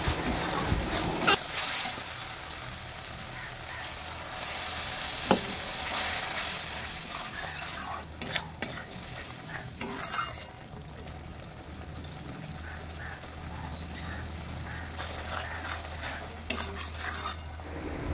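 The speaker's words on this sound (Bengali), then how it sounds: "আর একটু সামান্য পরিমাণ জল দিয়ে আবারও মশলাটাকে সুন্দরভাবে কষিয়ে নিয়েছি" Spice masala sizzles in a pan while a utensil stirs and scrapes it, producing repeated clinks and scrapes over a continuous frying hiss, with some quieter pauses and a low background hum in the later half.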